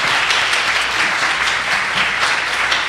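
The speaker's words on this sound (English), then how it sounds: "Let's give a clap up to the Lord." A church congregation claps together in dense, steady applause at a Sunday service, a full wash of hand claps sustained for a few seconds with no talking over it.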